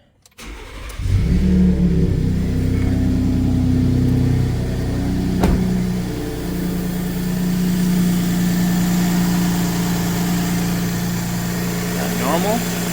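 A 2018 Ford F-150 pickup engine cranks and starts, then settles into a steady loud idle with a faint ticking running underneath.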